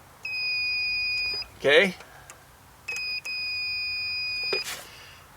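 A multimeter in ohm mode with its continuity beeper on gives two long steady electronic tones, each about a second, separated by a short spoken word and a brief scrape.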